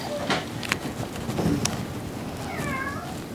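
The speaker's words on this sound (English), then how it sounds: "The cat's gonna join me." A house cat meows a few times in a home kitchen where pumpkin pie is being made from a fresh pumpkin, the short calls fairly faint over steady room noise.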